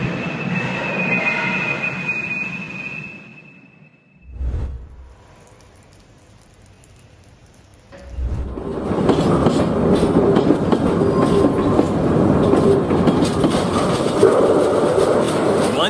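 Empty train cars rolling and derailing in Southeast Houston, a loud grinding rumble of rail cars after a brief quieter stretch with a thud, continuing as a heavy sustained roar.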